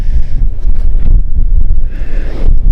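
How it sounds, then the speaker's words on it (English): Strong wind on a Lake Michigan shoreline near the Manitou Islands, loud gusty roaring and buffeting against the microphone, rising and falling in waves with no voices. "Oh, that wind is enough."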